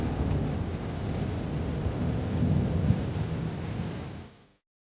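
Heavy rain pours steadily with deep rolling thunder rumbling through it, loud and broadband for most of the stretch before cutting off abruptly near the end.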